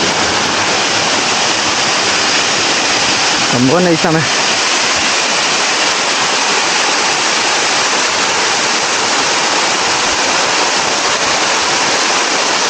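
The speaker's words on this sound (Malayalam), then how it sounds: "ഇത് ഈ വെള്ളച്ചാട്ടത്തിൻ്റെ താഴ്ഭാഗമാണ് കേട്ടോ" A waterfall at Palurkotta in Malappuram, Kerala roars as a loud, unbroken rush of falling water, heard from its base, with a brief voice speaking over it.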